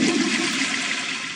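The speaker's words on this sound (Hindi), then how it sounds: "फ्लश मारो" A toilet flushes in the video game Granny 3, a steady loud rush of water lasting the whole moment with no talk over it.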